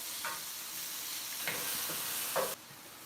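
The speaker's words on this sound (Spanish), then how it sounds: "Ya está previamente bien picadito, lo vamos a agregar. Vamos a dejar que esto se acitrone un poquito." Finely chopped tomato sautés in a hot pan with a steady, soft sizzling hiss, broken by a few light stirring scrapes before the sizzle drops quieter near the end.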